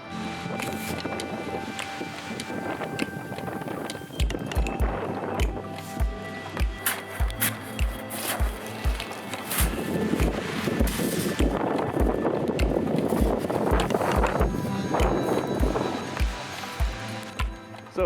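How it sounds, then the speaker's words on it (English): Strong wind roars and buffets the microphone throughout at a snowy loch, with low rhythmic thumps running beneath it and the gusts growing heavier toward the end. "It's really windy"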